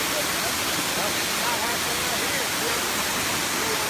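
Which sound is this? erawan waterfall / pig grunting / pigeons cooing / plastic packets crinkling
erawan waterfall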